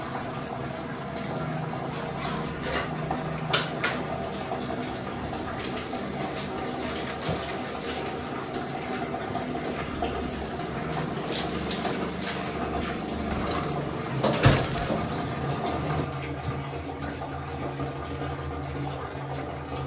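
Water pours steadily into a container, a continuous splashing rush with a small clunk midway; no talking.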